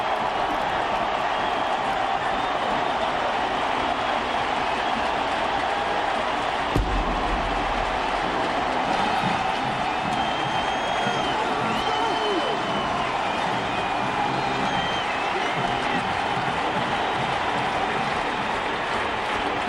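A huge stadium crowd roars as the Tennessee Volunteers take the field for a 2002 college football game against Miami. The roar is broad and steady throughout, with one dull thump partway through and faint voices blended in.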